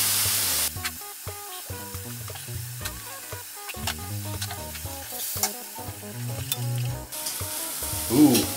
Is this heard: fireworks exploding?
no